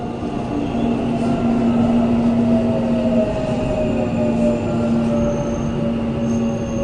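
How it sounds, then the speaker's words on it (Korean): A subway train rolls into a station with steady rumbling wheel noise and a long, high metallic squeal from the rails that sustains throughout, with no voices. "잠시 후 역에 전철이 들어왔습니다."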